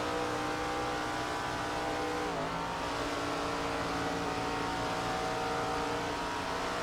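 A super-late model stock car roars around Chestnut County Speedway in a racing game, its engine a loud, steady high-pitched drone with a brief dip in revs midway as the throttle eases, then holding a sustained whine.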